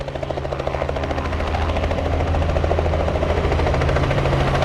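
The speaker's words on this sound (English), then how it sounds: "the helicopter landing is throwing up a lot of sand" Helicopter landing close by and kicking up sand, its engine and rotor drone loud and steady with a rhythmic beating that builds slightly throughout; no one speaks.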